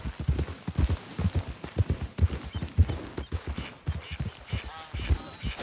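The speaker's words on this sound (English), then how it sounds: "Hey, get back on your horse." A horse's hooves clip-clop in the Red Dead Redemption 2 video game, an even, rhythmic trotting beat of close, distinct hoofbeats that continues steadily throughout.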